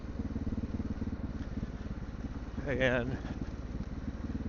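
A Honda XR650L motorcycle on an off-road ride through the Ozarks gives a steady, thumping single-cylinder engine drone throughout. A voice talks briefly over it near the middle.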